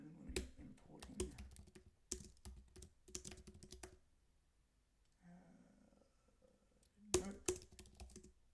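Fingers tap a computer keyboard in quick, irregular bursts of close clicks, broken by a quiet pause in the middle before a final flurry of keystrokes; a faint voice can be heard softly in the pause.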